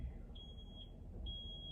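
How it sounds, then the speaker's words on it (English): Faint electronic beeping from outside, like a smoke alarm, a few thin high beeps repeating at intervals over a low background rumble, quiet and distant. "there's a beeping out there."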